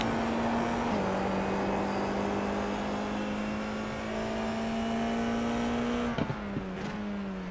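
A Formula iR-04 open-wheel race car accelerates flat out at Barcelona in iRacing, its engine whine climbing steadily through the gear with a brief shift early on and a sharp drop near the end.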